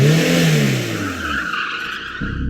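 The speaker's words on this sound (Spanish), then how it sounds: "El coche se arrancó" A car pulls away with its engine note sliding downward and a brief tire-skid edge, loud at first and then fading into a softer rumble as it drives off.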